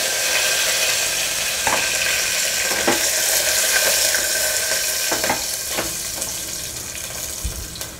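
Curry leaves sizzle and crackle in hot oil over a medium flame for broccoli coconut rice, a steady close frying hiss with scattered sharp pops throughout.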